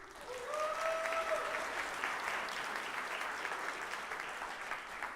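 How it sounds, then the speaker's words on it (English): Sustained crowd applause from a conference audience at a live AI event, a steady dense wash of clapping with a few brief whistle-like tones near the start, moderately loud and continuous throughout. "Round of applause."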